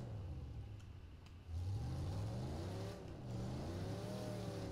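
Engine of a car in the Mad Max video game revs and climbs in pitch as it accelerates, a loud steady roar with rising harmonics, alone without talk.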